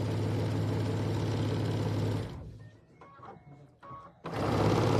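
A sewing machine stitches a quilt panel, running loud and steady, pausing briefly with a few soft clicks and rattles, then starting up again at full speed.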